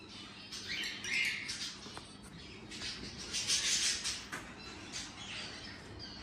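Newly introduced budgies in an aviary chirp and squawk in scattered bursts, bright, fairly close calls rising and falling over a quiet background.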